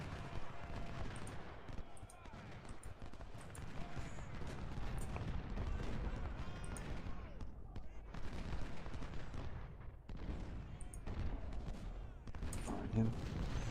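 Dense musket volleys and scattered gunfire crackle continuously from massed infantry in a Civil War strategy battle, with booming artillery mixed into the steady din and a voice speaking over it.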